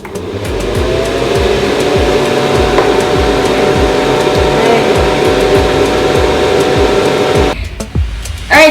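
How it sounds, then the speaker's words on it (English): A hooded hair dryer runs with a loud, steady blowing roar and a low motor hum, then cuts off abruptly near the end, leaving quiet. "I'm done drying or marinating under the hooded dryer"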